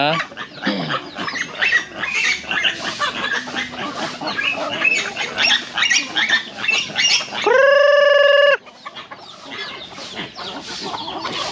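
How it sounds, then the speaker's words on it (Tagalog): Geese on a farm that also keeps chickens and turkeys, calling in a chattering mix of honks and squawks, with one long, loud sustained honk standing out partway through. "O mga gansa natin, andyan na, papunta na."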